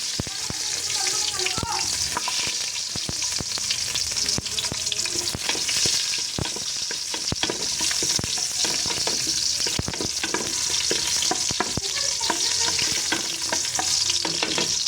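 Garlic sizzling loudly in hot oil in a pan, the first aromatic for pork-hock sinigang, a continuous bright crackle broken by frequent sharp pops and the scrape of stirring, with no voices over it.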